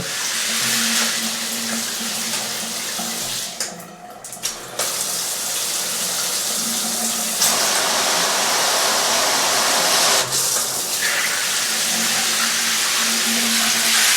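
Kohler handheld shower wand spraying at full power after its water restrictor is removed, a steady loud hiss and rush of water that briefly drops out and then returns.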